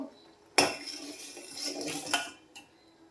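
Salt being stirred into puliyogare mixture in a pot, a sharp metallic scrape of spoon against pot followed by a run of clattering, clinking strokes, with a final softer knock, no voices.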